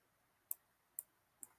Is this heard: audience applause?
no